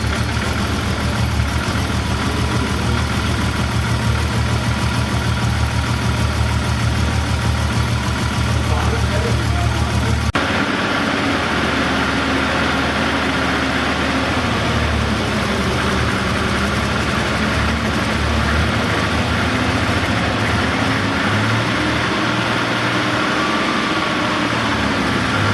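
A 1982 BMW 323i E21 with a Schnitzer turbo engine idles with a continuous low rumble. The tone shifts partway through and the idle settles into a rougher, wavering note, while a person talks over it.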